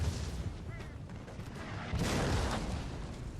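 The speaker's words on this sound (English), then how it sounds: "So here comes my Swedish ally to just shoot this Swiss foot to pieces" Massed musket volleys crackle and boom across a battlefield in Napoleon Total War, with Swedish line infantry firing on Swiss foot troops; steady dense gunfire rolls throughout, swelling into a heavier burst midway, with no talking.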